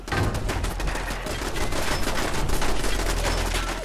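Turrets in the video game Fallout 4 firing nonstop, dense rapid automatic gunfire that stays loud and close for the whole stretch.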